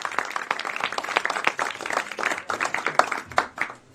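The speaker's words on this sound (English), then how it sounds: "I think we can give a big applause." Audience applause at a climate event hub in Davos, a dense wash of clapping with scattered louder claps and a few cheers, held steady and fairly close for the whole stretch.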